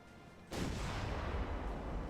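A single heavy naval cannon fires in the Ultimate Admiral: Dreadnoughts naval warfare game, a sudden loud boom followed by a sustained rumbling roar.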